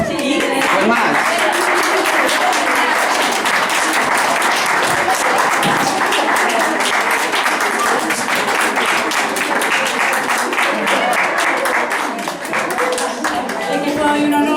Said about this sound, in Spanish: ¿Que le gustaron los aplausos? Sí. Pues más.